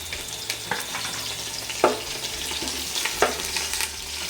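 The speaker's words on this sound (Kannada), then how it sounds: "ಈಗ ಕರ್ಬೇವಿನ ಸೊಪ್ಪು ಹಾಕ್ಕೊಳ್ಳೋಣ." Curry leaves hit hot oil with green chillies already in the pan, giving a close, steady sizzle broken by a few sharp crackles and spatters, with no voices.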